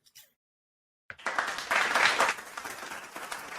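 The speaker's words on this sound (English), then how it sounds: "I could play the clapping. Should I play the clapping?" A recorded clapping sound effect played back after a pause, a burst of crowd applause starting abruptly, swelling, then settling to a steady moderate level.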